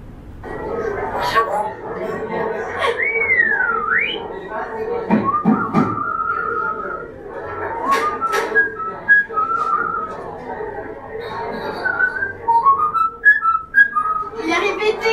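A mynah bird imitates a human whistle: melodic phrases, sliding and warbling, repeated in bursts with some vibrato, over a busy background of chatter and noise.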